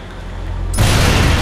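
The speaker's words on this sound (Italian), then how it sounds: "Esplosione." Explosion in the video game Watch Dogs, a sudden loud broadband burst that erupts after a low rumbling lead-in and then sustains a dense roar.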